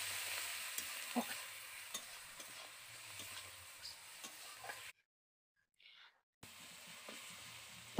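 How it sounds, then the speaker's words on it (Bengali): Spice paste with chili powder, turmeric and salt is stir-fried in a pan, soft scraping and a low sizzle with intermittent stirring clicks, fairly faint and close, with a brief gap in the sound partway through. "তো মশলাটাকে আমি ভালো করে কষিয়ে নিচ্ছি।"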